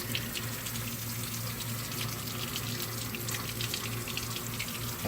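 Water rushes steadily through a Tracker Pro 170 boat motor during a freshwater flush, a constant hissing, splashing stream with a low hum beneath, loud and close with no pauses.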